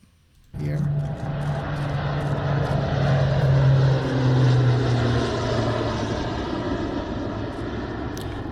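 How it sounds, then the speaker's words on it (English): An engine on an Iranian-made cargo plane, built locally by the Iranian Ministry of Defense, drones steadily with a propeller-like hum that starts suddenly, then holds loud and continuous with a slowly shifting pitch. "If I play the audio, you can hear the engine"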